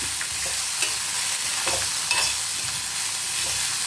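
Mint leaves are tossed in a hot kadai with the stove switched off, a constant soft frying hiss under light stirring scrapes, close and moderately loud, no voices.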